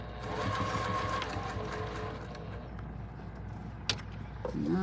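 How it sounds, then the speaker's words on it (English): Sewing machine running a steady close stitching whir as a pillowcase seam is sewn at a quarter inch, slowing and stopping near the end with a light click and a few handling sounds. "so we're gonna sew this with a 1/4-inch seam"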